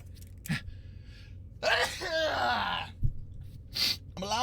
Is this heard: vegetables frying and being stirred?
no